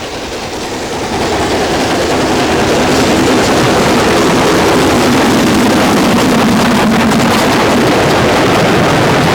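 Steam locomotive Stowe, one of a class of engines named after famous schools, working on the Bluebell Railway in Sussex. Its steady, loud, broad rumble swells in the first second and then holds on without a break.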